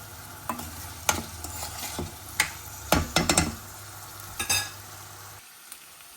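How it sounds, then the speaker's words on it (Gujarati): Potatoes frying in a pan for farali khichdi, a steady low sizzle broken by irregular scraping and knocking of a spoon stirring against the pan, then falling quiet at the end. "હવે ચલો બટેકાને ચડવા દઈશું."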